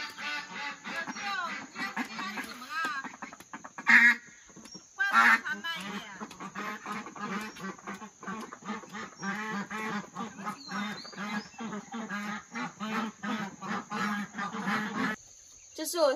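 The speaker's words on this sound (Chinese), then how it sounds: "那只落单的鸭子，我把它叫上来" Ducks on a farm quack in frequent, overlapping bursts close by, with a person calling to them in a sing-song voice and talking throughout.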